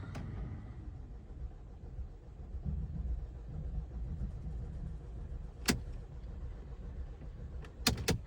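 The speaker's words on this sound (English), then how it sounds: "Let's just give it a quick fire up, just see how it sounds." A Mercedes A-Class engine after injector replacement, running as a low, steady idle rumble, with a few sharp clicks near the end.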